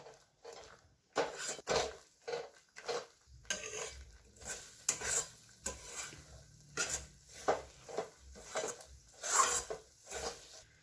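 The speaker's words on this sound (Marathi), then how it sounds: "हे चांगलं असं एकजीव होईस्तोवर हलवूया" A thick sesame and jaggery mixture for tilgul vadi is stirred in a pan, making rhythmic scraping and clinking strokes, roughly one per second, steady and fairly quiet, with no talk.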